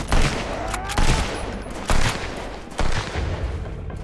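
Gunfire in the survival video game Sunkenland: four loud bursts of shots about a second apart, each followed by a ringing tail. No talking.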